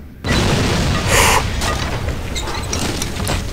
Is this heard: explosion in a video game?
yes